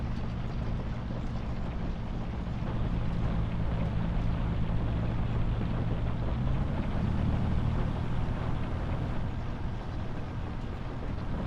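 Steady, continuous engine rumble of a tractor in a farming roleplay video game while rain or hail falls, a dense broadband wash holding level and unbroken throughout with no voices.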